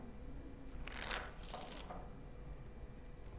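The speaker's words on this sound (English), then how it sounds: "the cards must be shuffled" Playing cards shuffled at a fireside table in Dragon Age: Origins, heard as two short crisp riffling bursts close by over a quiet hiss, with no voices.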